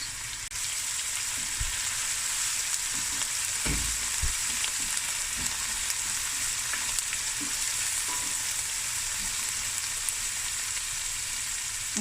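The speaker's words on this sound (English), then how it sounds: "You can at this stage add cloves, star anise, and cumin seeds as well." Cloves, star anise and cumin seeds fry in hot oil for lamb akhni, giving a steady bright sizzle with a few light knocks and stirs throughout.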